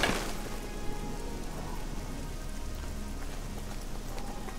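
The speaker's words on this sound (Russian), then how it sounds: "Дождь не должен мне вредить" Rain falls in the fantasy role-playing game Oblivion, a soft, even hiss of drops that stays faint and unbroken throughout.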